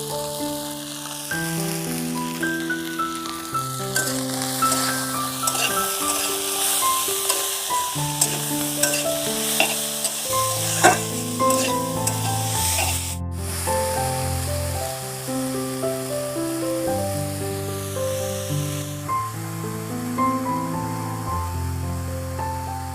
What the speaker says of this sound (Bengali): বন্ধুরা, এই মাছগুলো আমি কড়া করে ভেজে নেব